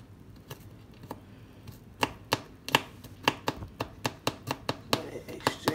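Knife chopping a garlic clove on a cutting board for cheesy shrimp quesadillas: a steady run of crisp, close taps, sparse at first and then quickening into a regular rhythm.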